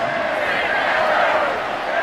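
A continuous crowd roar from a stadium in a football video game holds steady and loud throughout, a dense wash of cheering with no clear breaks.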